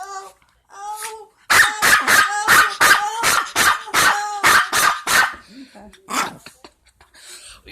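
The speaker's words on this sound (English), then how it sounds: "We got a little watchdog." A small Yorkie barks in a rapid run of about a dozen sharp, close yaps, with a few whimpers before and after; a person talks around the barking.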